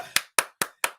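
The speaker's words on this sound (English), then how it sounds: "keep clapping" Crisp, close handclaps ring out in a steady beat, four claps in quick succession about a quarter second apart, loud and alone.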